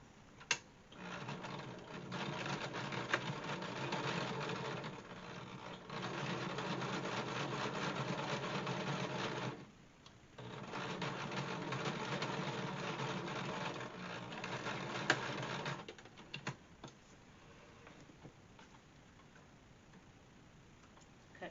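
Sewing machine stitching a fabric face mask, a steady close mechanical rattle running in long bursts with a brief pause between passes, then stopping, no talking.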